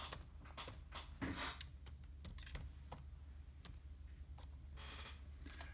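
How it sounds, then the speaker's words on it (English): Someone types on a computer keyboard while naming an Excel cell, a faint scatter of light key clicks with short pauses between them against quiet room noise. "Then click on the name box and type the name you want."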